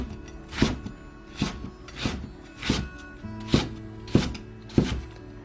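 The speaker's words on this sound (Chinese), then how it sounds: "再准备1节大葱，把大葱我们给切成葱花" A knife chops a length of scallion into small rounds on a board, giving about eight evenly spaced, crisp thuds over a quiet background. Nobody speaks.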